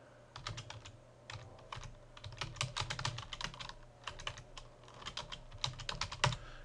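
Rapid typing on a computer keyboard: quiet, close key clicks come in irregular bursts with short pauses, and a few louder taps stand out near the end.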